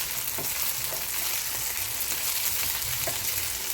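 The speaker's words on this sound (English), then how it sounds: "We're going to stir fry it" Chicken fried rice stir-frying in a hot pan, a steady close sizzle and crackle broken by occasional scrapes and clinks of the utensil tossing rice and vegetables.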